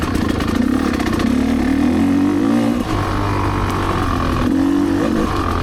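A Rieju MRPro 300 motorcycle engine drones steadily and loudly while riding, its pitch rising and falling with the throttle, with a brief dip in the middle.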